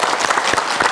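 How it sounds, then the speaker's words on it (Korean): Short burst of audience applause in a TV studio, many hands clapping close together, loud and dense for about a second. "행복이 가득하길 기원하는 박수 여러분 보내주시겠습니까?"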